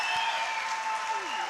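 An audience at a Punjabi and Urdu humorous poetry recital claps in a dense, even burst of applause, with a voice sounding over it.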